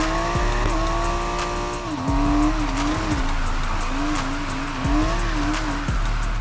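Mazda Miata drifting in the Need for Speed video game, the engine revving and wavering under continuous tire squeal, loud and close throughout.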